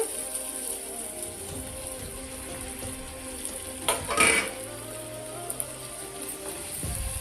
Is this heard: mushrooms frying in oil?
yes